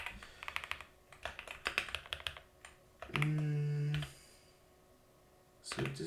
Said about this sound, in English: my god, I can type